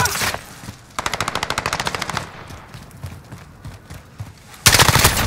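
Automatic gunfire in Call of Duty Modern Warfare multiplayer on the Piccadilly map, with a rapid, loud burst of machine-gun shots, quieter scattered noise in between, and a sudden heavy blast of fire at the end.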